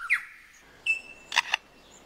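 A male lyrebird in the forest mimics a camera shutter, giving a whistled note and then a sharp mechanical click and a clack, crisp and close, with no voices.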